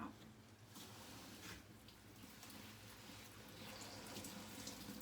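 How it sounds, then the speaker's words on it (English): Water pours and splashes steadily out of a Giantex portable washing machine as it drains, a continuous close rushing flow with no talking. "Look at all that water coming out."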